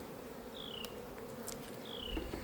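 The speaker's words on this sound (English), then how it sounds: "You notice there's some bees flying around." Faint buzzing of honey bees flying nearby over a low background hum, with a few wingbeat passes drifting by.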